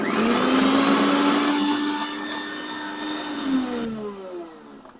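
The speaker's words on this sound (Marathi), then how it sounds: "आता त्याच भांड्यात मी हा खोबरा आपला वाटून घेते" A mixer grinder grinds coconut with a loud, high electric whine. The pitch sags and then recovers as the load shifts, and the motor winds down toward the end.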